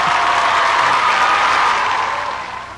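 A TV studio audience on a Christmas variety show claps loudly in a sustained burst of applause with some crowd noise, fading toward the end.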